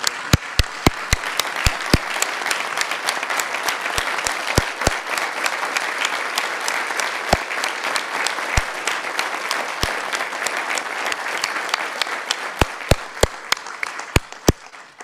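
Audience applauding a retiring police chief at a public event, sustained broadband clapping for about fifteen seconds with sharp individual claps standing out near the front, steady and loud throughout.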